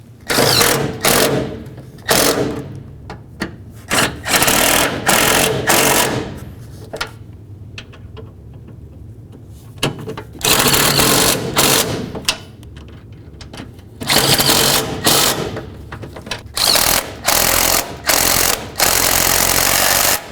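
Ratchet snugging transmission mount nuts on a 2010-2013 Ford Transit Connect, with repeated bursts of loud close clicking separated by short pauses.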